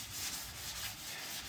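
Hand sanding on wood: a steady, breathy rasp of abrasive rubbing back and forth, close and continuous, with no talking.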